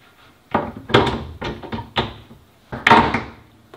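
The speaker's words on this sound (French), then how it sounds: "tu prends ta porte et tu la fais juste glisser dessus" IKEA kitchen cabinet door being fitted and slid onto a fridge door, heard as a series of sharp wooden knocks and clunks, about six distinct hits with a heavier double thump near the end.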